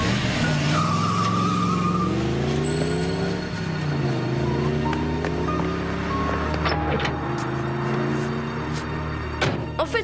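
A car drives past and skids, its engine note rising and falling and its tires squealing, loud and close, with a few sharp knocks toward the end.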